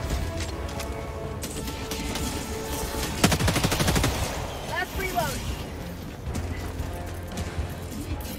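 Gunfire in the video game Helldivers 2, with a dense burst of rapid shots and clattering impacts in the middle of a noisy battle, while players talk over it.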